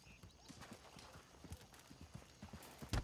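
Horse hooves clip-clop in the video game Red Dead, a quiet, steady run of rhythmic hoof beats with a faint whinny, ending in a louder burst.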